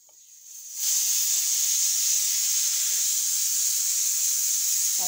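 A pressure cooker cooking mutton curry vents steam in a sudden loud, continuous high hiss that kicks in after a second of quiet and holds steady close up.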